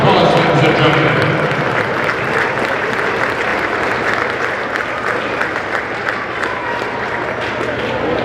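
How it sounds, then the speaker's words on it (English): A crowd in the historic Hibbing Memorial Arena applauds graduating seniors before a boys' varsity hockey game, a loud, sustained round of clapping echoing through the rink with voices murmuring underneath. "Let's have a nice round of applause, ladies and gentlemen."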